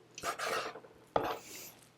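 A kitchen knife cuts squid legs in two quick, close strokes about a second apart, each a short scraping slice against the board, in a quiet kitchen.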